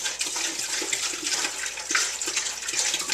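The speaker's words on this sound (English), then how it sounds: "this happens to be a Burgundy, and we are going to pour the whole gallon" A full gallon of Burgundy wine pours in a steady, close, rushing gurgle, as when making Swedish glögg, with no voices over it.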